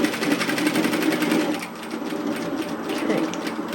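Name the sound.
sewing machine stitching a tailored vest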